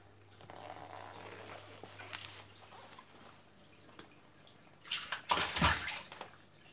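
Water splashes and trickles as it is poured back into a fish aquarium after treatment. Quiet drips and sloshing build to a louder gush of pouring near the end.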